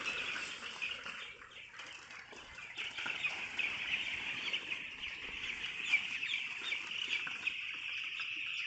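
A large flock of chicks being herded up a ramp and out to pasture, with continuous high-pitched peeping and cheeping from many birds close by, steady and dense throughout.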